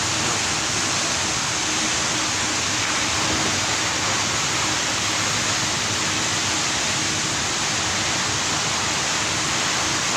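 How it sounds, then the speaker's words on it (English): Running water rushes in a continuous, even broadband roar close by, steady for the full length with no talking. "The water you're hearing is over here."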